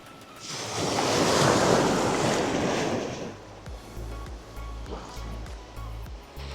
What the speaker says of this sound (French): Des grosses vagues.